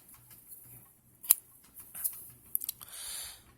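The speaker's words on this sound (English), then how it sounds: "Now, naturally, poke a hole to cut the can naturally" Ordinary scissors snip into an aluminium Red Bull can, giving one sharp crunch followed later by a brief cluster of metallic clicks over a quiet, faintly hissing background, close by with no talking.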